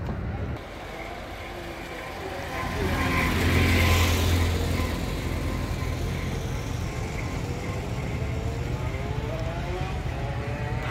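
Cars driving along a road on the island of Capri, Italy, with a steady engine hum that swells as a vehicle passes close by around the middle, then settles into a continuous traffic drone.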